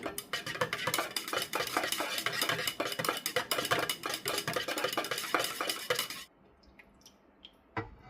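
Maja Blanca mixture of cornstarch and milk being stirred in a pot, a dense run of rapid scraping and clinking strokes that stops abruptly, followed by a few faint knocks.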